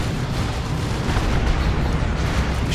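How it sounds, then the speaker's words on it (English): Sorcerer unleashing Doom Bolts in Dawn of War II: Retribution, heard as a loud, dense rumble of blasts and booming impacts that roll on continuously with no voices over them. "Shoots in some Doom Bolts."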